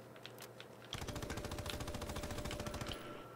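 Rapid automatic gunfire from Call of Duty WW2 rattles in a steady fast burst for about two seconds while targets are shot in the game, then cuts off.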